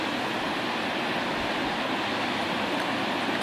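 North Sea waves wash steadily close by, a constant broadband rush of surf with no distinct breaks, heard alone without voices.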